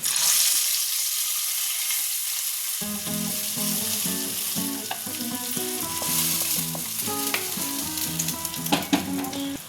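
Onion tempering frying in a pan for a Kerala pidiyum kozhiyum dish gives a loud, continuous close sizzle with a few stirring clinks, and music joins underneath after the first few seconds.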